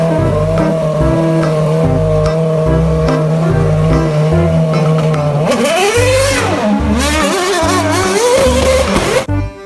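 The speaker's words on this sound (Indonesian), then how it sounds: "Yang ini ada mobil balap F1" A toy-style F1 race car sound: loud engine revving with rising and falling pitch sweeps, a steady drone that surges into rapid revs and screeching skids near the end, alone without talk.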